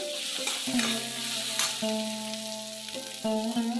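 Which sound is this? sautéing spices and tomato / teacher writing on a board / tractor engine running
sautéing spices and tomato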